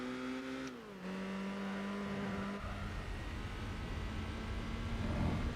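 Racing car engine in Gran Turismo 4 revs steadily, drops pitch at a gear shift, then drones on under a broad roar of wind and road noise.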